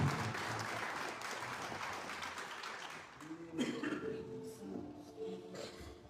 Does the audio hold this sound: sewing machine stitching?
no